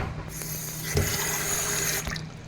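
A kitchen tap runs steadily to rinse a can while making picadillo, water hissing and splashing close by with a couple of light knocks against the can.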